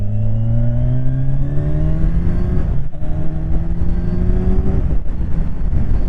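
A 2020-2021 Kawasaki Ninja 1000 SX motorcycle accelerates hard, its engine note climbing loudly through several rising pitches, with quick clutchless gear changes breaking the sound into steps, under steady wind rush.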